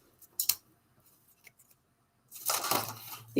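Scissors snip paper pieces for a stamped card craft with a few short, crisp cuts, then a louder rustling, sliding sound of paper being handled close by.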